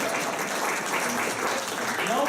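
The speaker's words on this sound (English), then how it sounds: "You can clap." Audience clapping at a Minnesota congressional money-in-politics forum, a dense, steady patter of applause held for a couple of seconds at moderate level.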